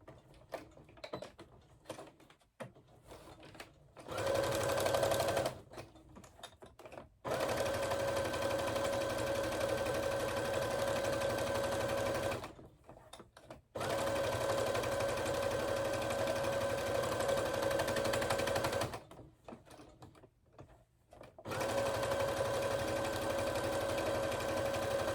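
A Brother SE600 sewing machine stitches in three long runs of steady whirring hum, each several seconds, broken by quiet pauses with small handling clicks between them.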